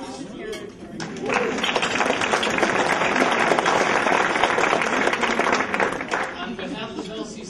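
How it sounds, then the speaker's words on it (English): An audience at an evening high school culinary arts awards ceremony claps in a full, sustained round that rises after a brief quieter start and tapers near the end, with voices mixed into the crowd. "While you're in the midst of clapping, how about this?"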